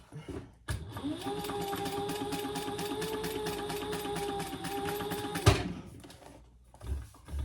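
A sewing machine runs in one steady stitching burst for several seconds while sewing a cork wallet, starting and stopping with clicks, followed by brief handling noises.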